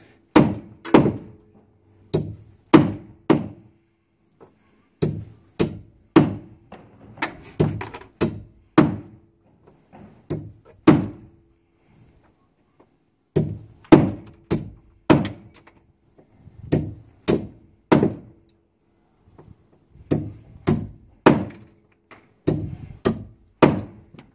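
Sharp blows from a 15 oz titanium hammer striking nails, in quick bursts of three to five hits separated by short pauses, loud and close with no talking.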